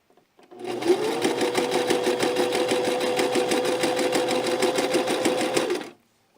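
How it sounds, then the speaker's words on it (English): A sewing machine runs a continuous straight stitch while hemming the armhole edge of a dress sleeve. The rapid, even mechanical whirring lasts about five seconds and then stops, loud and close with no talking. "And then I'm just going to straight stitch all this around. I am hemming the side sleeve now of the armhole."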